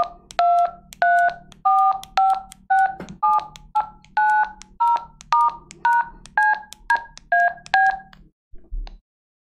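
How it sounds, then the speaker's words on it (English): Dual-tone keypad beeps from a ham radio held on push-to-talk, about fourteen short even tones pressed one after another in a steady rhythm, clear and close with no talk. "if we hold down the push to talk and we hit all the keys on the keypad, we should see DTMF tones"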